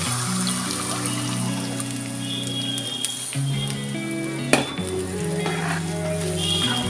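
Browned onions sizzle and fry in a pan in a home kitchen, a continuous close hiss with a few clinks from utensils and a steady tonal hum behind it.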